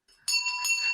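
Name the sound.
cowbells rung by ski spectators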